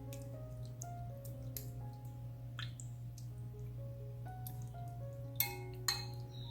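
Cheesecloth dunked into coffee dye, giving faint soft drips and light clinks of water in a container over a steady low hum, with a couple of sharper splashy plinks near the end.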